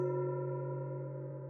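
A sustained metallic gong tone with rich, steady overtones, ringing on alone and slowly fading.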